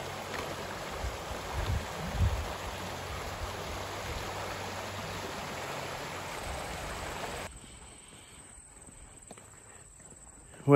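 Footsteps crunch steadily along a trail beside a flowing stream on a long walk, the water rushing constantly under the close steps until the sound drops away near the end.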